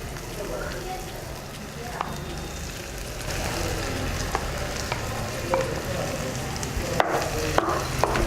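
Mashed potatoes fry in oil with spices in a pan, a steady crackling sizzle with sharp ticks and pops from stirring, close and continuous.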